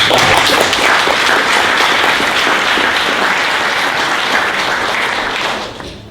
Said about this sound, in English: let's give one more round of applause for all the teams